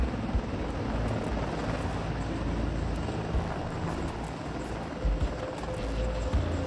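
A Russian Mil Mi-28 Havoc attack helicopter flies with a steady, loud, close rotor and engine roar that holds constant throughout, with no talk over it.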